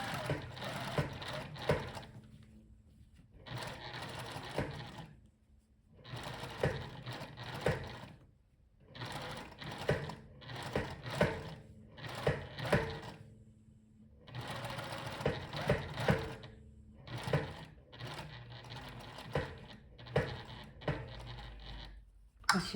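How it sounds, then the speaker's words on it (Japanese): Sewing machine running a 1 mm topstitch around a shirt collar stand, repeated bursts of fast mechanical whirring separated by short pauses, close and fairly quiet. "ぐるーっと1ミリのステッチをかけていきます"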